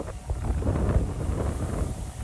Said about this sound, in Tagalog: Ayan, ang lakas ng hangin oh.